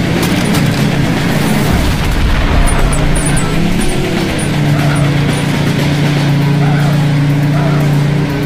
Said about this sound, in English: Airstrike imminent!